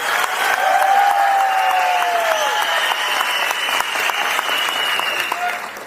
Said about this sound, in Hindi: देखिए, जितनी मर्जी ताली बजा लीजिए,